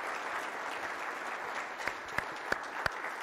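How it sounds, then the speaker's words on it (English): An audience gives a round of applause at an event, steady dense clapping throughout with a few louder, sharper claps standing out near the end. "Can we give them all a big round of applause?"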